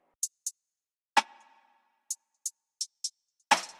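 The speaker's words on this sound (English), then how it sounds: "But when you add the delay, which I just went here, presets, ping pong preset," Hi-hats in a mellow ethereal beat with a ping-pong delay preset repeat as short bright ticks between two sharper hits with ringing tails, sparse and clean.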